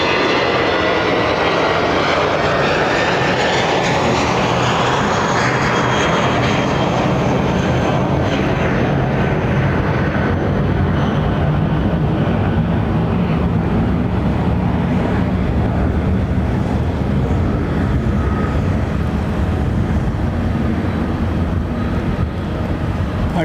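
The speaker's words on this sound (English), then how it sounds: "Okay, Emirates moving into position. Now you watch the numbers go up" An Emirates airliner rolls for takeoff at London Heathrow, its jet engines building into a loud, steady roar that swells and holds for a long stretch with no talk.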